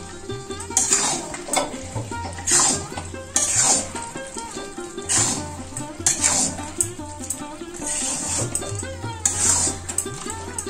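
Jujube (kul) pickle being stirred in a pan over low heat, a repeated rhythmic scraping of a spoon against the pan, each stroke close and distinct over a soft bubbling cook.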